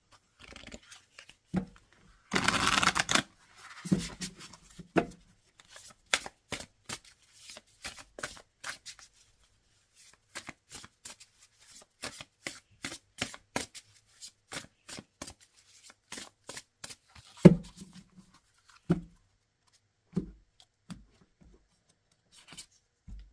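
Tarot cards being handled and shuffled: a quick riffle burst early on, then many crisp irregular card slaps, flicks and slides over twenty-odd seconds, close and dry with near silence between them and no speech.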